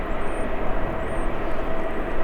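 Airplane landing at Vancouver airport during a morning snowstorm, a loud, steady broadband engine roar close by, holding throughout without pause; no talk.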